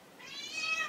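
A large, heavy pet cat lets out a single drawn-out meow close by, rising and lasting about a second.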